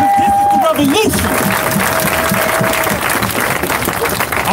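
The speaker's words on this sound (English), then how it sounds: "Give yourself a round of applause, y'all!" A crowd at a protest rally against police brutality claps and cheers loudly and continuously, with voices shouting throughout the applause.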